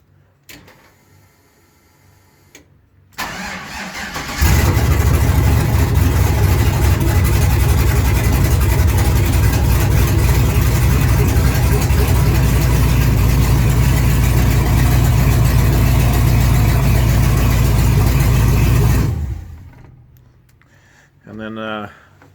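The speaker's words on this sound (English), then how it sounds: "So for now, engine is running." An engine on a project vehicle with an added OBD2 port starts up around four seconds in, then runs at a steady, loud, close idle for about fifteen seconds before shutting off; brief quiet talk comes before and after.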